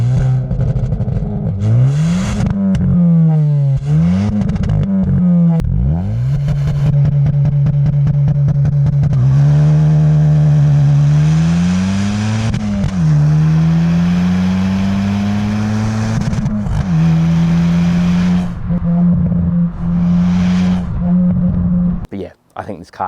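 A 2022 Hyundai i20N hot hatch fitted with an exhaust taken from an Audi RS3 idles loud and close, then rises and falls through a series of throttle blips and longer revs before cutting off at the end.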